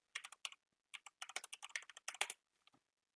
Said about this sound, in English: Oh, mate, this keyboard.